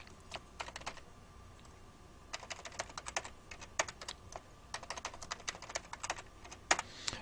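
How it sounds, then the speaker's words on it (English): A password is typed on a computer keyboard, with quick, irregular bursts of close, crisp key clicks and short pauses between them. "I'm going to type in a password."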